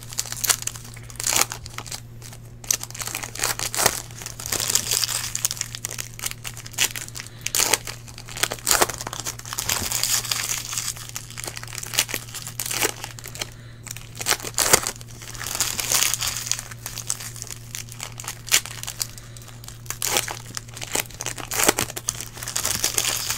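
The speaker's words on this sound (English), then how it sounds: "I'm just going to go ahead and rip all this stuff open." Packs of 2016 Topps Gold Label baseball trading cards are ripped open, producing a steady stream of close crinkling and tearing foil wrappers over a low constant hum, with no talking.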